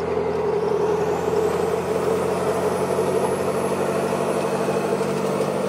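A 6.7 Cummins diesel pickup with a 64mm VGT turbo pulls hard on the road, a loud, steady engine drone with a faint rising turbo whistle across the whole stretch and no talking.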